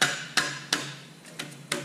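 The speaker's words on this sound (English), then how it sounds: "Take a dead blow hammer, help drive it on there." A dead blow hammer drives a transmission adapter plate for a Toyota R150 gearbox onto an OM617 diesel engine block, five sharp thuds in uneven rhythm, close and alone.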